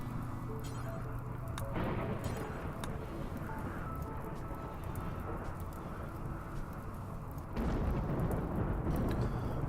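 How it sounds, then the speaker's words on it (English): Low rumbling of a dry thunderstorm in the video game Rimworld, a continuous dull roar with a heavier swell near the end, no rain patter distinct, moderate loudness. "So we got this dry thunderstorm"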